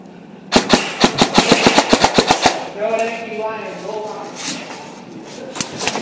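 A rapid string of about a dozen sharp airsoft shots from an ARP9 rifle during an indoor CQB game. The close, snappy cracks arrive in quick succession, then give way to muffled voices and a few scattered shots.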